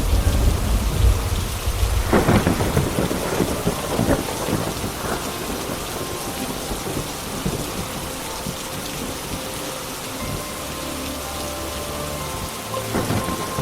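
Steady heavy rain pours throughout, with thunder cracks and rumbles near the start, around two and four seconds, and again near the end.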